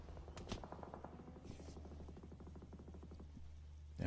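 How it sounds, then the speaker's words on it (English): Constant battle noise in a PUBG Mobile esports finals match, with rapid bursts of gunfire and explosions rattling on without pause, fairly quiet and steady throughout, with a louder burst at the very end. "Yeah, non-stop explosions."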